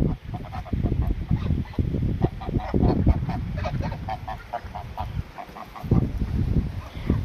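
Free-ranging geese honk repeatedly in very strong wind, a busy flock of loud overlapping calls close by, with gusts rumbling beneath the stretch.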